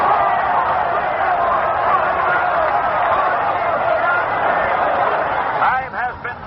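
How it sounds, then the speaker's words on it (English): A large crowd roars steadily at Yankee Stadium during the 1946 Army vs Notre Dame football game, a broad, constant wash of cheering heard through an old broadcast, with voices picking up near the end. "Listen to this crowd in the Yankee Stadium"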